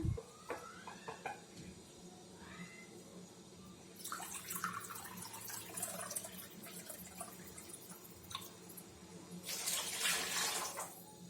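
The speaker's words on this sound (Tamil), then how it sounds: "இன்னும் 1 கப் தண்ணி ஊற்றிக்கலாம்." Water pours into a cooking pan for mutton rava upma, running and splashing in bursts, with quieter dripping and clinking between pours, heard close up without any talking.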